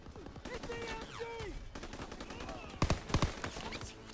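A machine gun in a hayloft fires bursts during a D-Day beach assault in Call of Duty: WW2, with rapid, loud cracks clustering toward the end amid battle noise and shouted voices.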